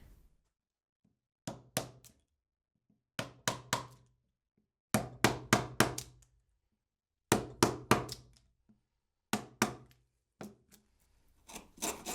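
A chisel struck with a mallet splits wood waste out to a saw line while building a shooting board with hand tools, giving sharp, close knocks in clusters of two to four with quiet gaps between them.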